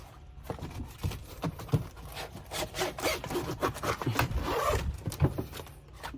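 A series of rough scraping, rubbing strokes, like a long zipper being drawn along a fabric cover in stops and starts inside a Winnebago Solis 59P camper van, fairly quiet and close.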